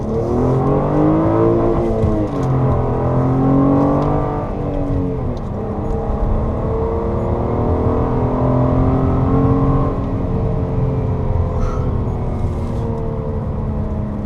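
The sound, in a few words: Honda Accord V6 Coupe engine accelerating, gurgle and growl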